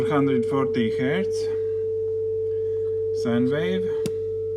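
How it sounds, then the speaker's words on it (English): A steady 440 Hz sine tone from an oscillator on the Erica Synths EDU DIY Labor prototyping synth hums continuously at moderate level, with someone talking over it at intervals. "Sine wave"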